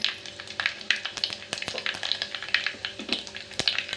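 Mustard seeds, curry leaves and cumin sizzle in hot oil for a sprouted moth bean and potato curry, with close, busy crackling and rapid popping spatters and no voice.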